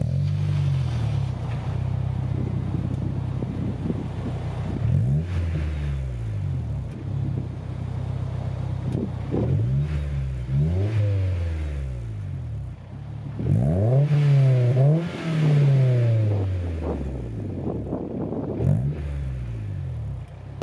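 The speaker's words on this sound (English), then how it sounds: "Here's a sound clip of the car start up, maybe a few revs." A Honda S2000 fitted with a Tanabe Medallion Concept G exhaust cranks and fires, then idles low and steady between several rising revs, with two stronger blips near the end; close, alone, no talk.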